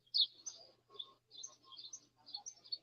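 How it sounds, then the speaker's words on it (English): Birds chirp and twitter in a village setting outdoors, with short, fairly faint phrases repeating at a quick, uneven pace and no voices over them. "The birds are singing."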